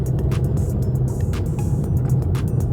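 Steady road and engine rumble from a Honda CR-V driving down a road at night, a constant low drone with faint ticks, no talking.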